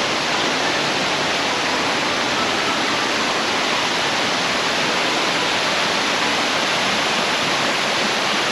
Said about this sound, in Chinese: 抵达深高坑瀑布